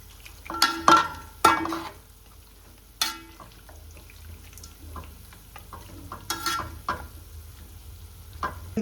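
Ingredients for chicken biryani fry in a pan with a quiet ongoing sizzle, broken by sharp scraping stirs and clanks of a spoon against the pan.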